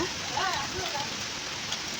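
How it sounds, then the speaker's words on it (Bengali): Steady rain patter fills the background, a broad hiss of drops falling, with faint voices and brief whistling sounds over it. "গাইজ বৃষ্টি শুরু হয়ে গেছে"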